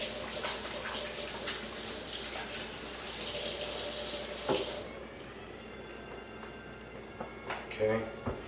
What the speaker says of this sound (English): Wash my hands a little bit.